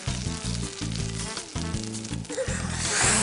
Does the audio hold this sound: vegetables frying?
yes